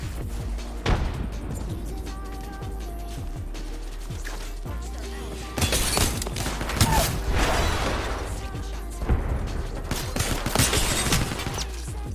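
Grenade explosions in a video game: heavy bursts around six and nine seconds amid dense gunfire and mechanical clatter, loud and close, with occasional player voices under the action.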